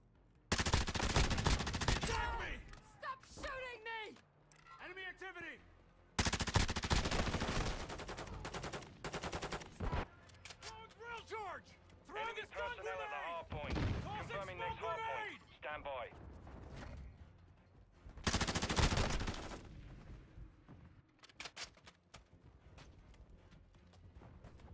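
Gunfire in a shooter video game, heavy bursts of rapid shots that come and go in loud clusters between quieter stretches, with voices talking over much of it.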